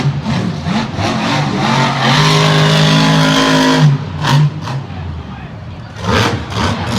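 A Monster Jam monster truck's engine revs hard during a freestyle run, rising to a sustained loud roar before cutting off, with commentary talk over it and crowd-like noise.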